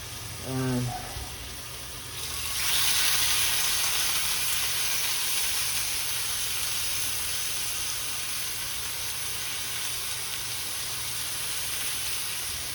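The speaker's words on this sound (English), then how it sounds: "we're gonna go ahead and get these steaks down in these pans" Thick steaks hit two hot frying pans on medium heat, a brief burst of talk giving way to a loud, steady sizzling hiss that fills the kitchen and holds unbroken to the end.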